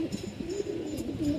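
Pigeons coo in soft, low, rolling bursts, several calls overlapping close by at a gentle level with no talk.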